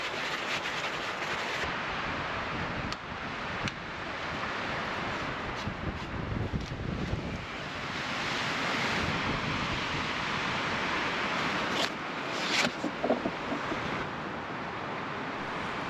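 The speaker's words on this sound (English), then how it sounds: "The wind continued to be absolutely relentless." Relentless gusting wind roars across a remote Sierra mountain campsite, a continuous broadband rush that swells and eases, with occasional buffeting thumps and rattles close to the microphone.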